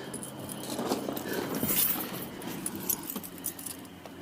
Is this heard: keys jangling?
yes